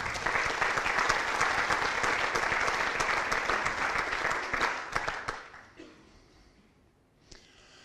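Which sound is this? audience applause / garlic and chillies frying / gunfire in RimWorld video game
audience applause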